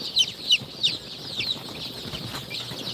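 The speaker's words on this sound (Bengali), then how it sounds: "সোনালি এবং দেশি মুরগির বাচ্চা" Several short high-pitched chirps and clucks from native and Sonali breed chicks, close by, repeated irregularly over a steady background hum.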